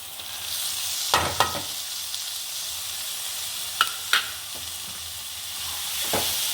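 Tuna fish fries in a pan with a steady, close sizzle, broken by a few sharp clinks and scrapes as a spoon stirs the pieces.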